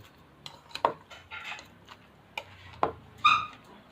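Tofu and tuna being stirred with vinegar and a little salt in a dish, heard as a handful of scattered, light metallic clinks and scrapes of a utensil against the dish in an otherwise quiet kitchen.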